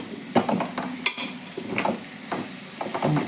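Chopped tomatoes tossed into fenugreek leaves and moong dal frying in oil, with a soft steady sizzle broken by several scraping stirs of a spoon against the pan.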